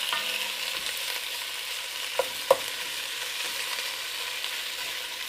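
Ground meat browns in a pan with a steady, hissing sizzle throughout, broken by a couple of faint clicks, and no voices are heard.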